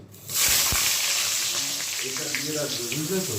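Eggplant hits hot oil and sets off a sudden loud hiss that holds as a steady sizzle. A voice speaks faintly underneath toward the end.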